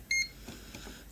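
A multimeter on a workbench gives a single short, clear electronic beep near the start, followed by quiet room noise.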